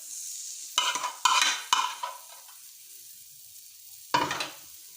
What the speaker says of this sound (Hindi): चलो ये मिक्स कर लेते ताकि जले ना।